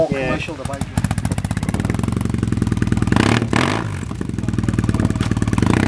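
A motorcycle engine idles and revs close by with a steady, rhythmic thumping beat and a brief rise in pitch, while a person talks over it.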